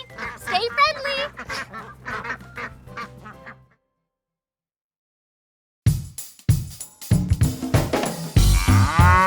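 Ducks quack in short, nasal bursts, first mixed with voices, then after a silent gap as louder clustered quacks close by.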